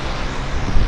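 An Otter floatplane at Vancouver's downtown harbour airport gives a loud, steady propeller-engine drone, close by and rising slightly toward the end of a very short burst.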